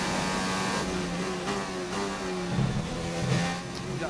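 Formula 1 race car engine in the F1 2019 racing game, a steady high-pitched whine that holds under and rises slightly during a DRS straight, continuous and fairly close throughout.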